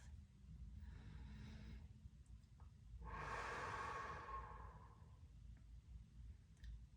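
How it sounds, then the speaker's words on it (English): A slow, deep breath drawn in through the nose and then let out through the mouth, a soft airy inhale swelling into a louder, longer exhale, close and alone over a low background hum. "Let's go in through our nose and slowly exhale out through our mouth."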